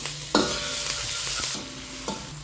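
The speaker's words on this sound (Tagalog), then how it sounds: "Pagka mainit na, lagyan na natin ng mantika, luya, sibuyas, at ang ating bawang." Ginger, onion and garlic are dropped into hot oil in a pan and sautéed, with a sharp hiss at the start and a steady sizzle and stirring scrapes close by after it, for chicken afritada.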